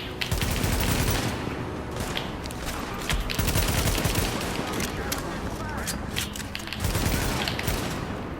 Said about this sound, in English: let them do a bit of the shooting and stay back and do it from afar